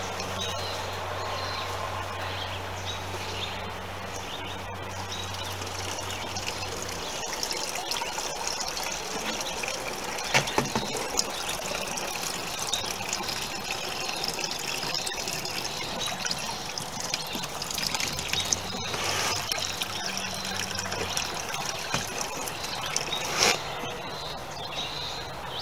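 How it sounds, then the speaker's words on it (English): Liquid fertilizer water filling plastic jugs, a steady close gushing pour that runs continuously for the whole stretch with a few brief clunks and shifts in flow, no voices. "I'll just fill these jugs."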